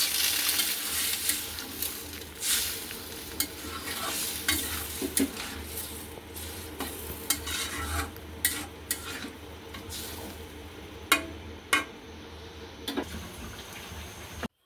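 Catla fish curry with tomato and green chili sizzles in a pan while a spoon scrapes and stirs it in intermittent clatters. The frying hiss runs fairly quietly underneath, with no voices.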